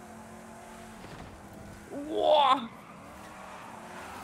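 A car in a video game surges with a brief engine rev and a tire squeal lasting under a second, with murmured voices and a short spoken word around it.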